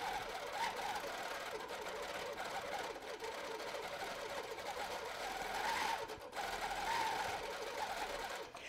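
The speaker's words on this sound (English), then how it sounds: "I do press down the foot pedal and then I'm ready to stitch." A Baby Lock Regent sit-down longarm quilting machine stitches continuously with a steady, fast mechanical whir. The sound is fairly quiet, has a slight dip near the middle, and carries no talk.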